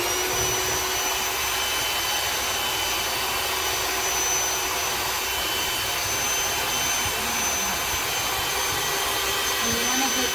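Egg yolks being beaten until foamy with an electric mixer: a loud, steady motor whir holding a constant pitch throughout, with no break and only faint background sound.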